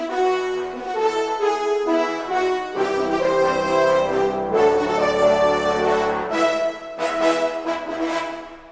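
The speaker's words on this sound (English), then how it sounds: "So with the trombones and brass together, it sounds like this." Orchestral trombones and brass from the Industry Brass library play a full, sustained cue of layered chords with punchy accented notes, loud and alone with no talking.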